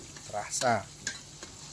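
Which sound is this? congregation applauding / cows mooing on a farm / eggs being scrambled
eggs being scrambled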